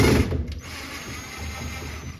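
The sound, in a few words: unscrewing screws from a 1959 Chevy Impala interior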